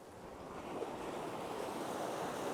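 Surf washing onto a remote beach between Twilight Cove and Eyre on a 4WD trip, a steady broadband rush of waves with some wind, continuous and moderately close, no voices.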